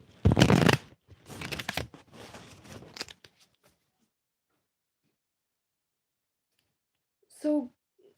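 Tarot cards riffle and shuffle in a few quick bursts close by, then silence, with a brief higher sound near the end.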